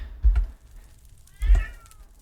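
A pet cat in a home gaming room gives two loud, close meows about a second apart, each short and bright, with a faint background hum between them and no speech.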